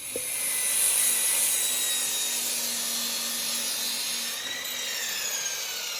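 A saw cuts a wooden board to 26 inches for a rabbit hutch, starting with a sharp click and then holding a loud, continuous grinding whine that dips slightly near the end.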